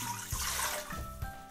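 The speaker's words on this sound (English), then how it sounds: "Now we will add the 3 glasses of water into the pot." Water poured from glasses into a big pot in a kitchen, a continuous close rushing splash with brief surges, no talking over it.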